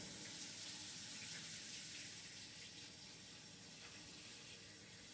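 Water from a running sink tap splashes steadily over a griddle item being rinsed clean after making pancakes, a continuous close hiss that eases slightly toward the end, with no talking.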